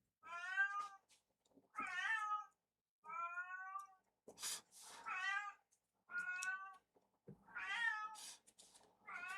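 A house cat meows repeatedly, about eight distinct drawn-out calls spaced through the stretch, close and clear against an otherwise quiet room.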